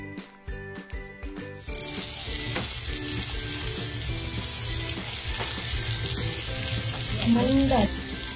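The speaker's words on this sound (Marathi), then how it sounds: "आणि आता ही पापलेट फ्राय करून घेते." Masala-coated pomfret fish laid into a hot pan, a few clattering knocks at first, then a steady loud sizzle that holds to the end, with a brief voice near the close.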